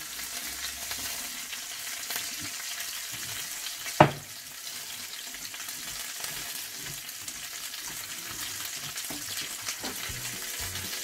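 Chopped vegetables sizzling in a pot for gumbo give a steady, fairly loud frying hiss that lasts throughout, with one sharp clank partway through and no voices.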